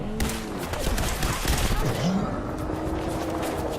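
Rapid gunfire in Fallout 4 aimed at a character, a dense crackling volley of shots over game ambience, loud and steady with a brief tonal sweep midway.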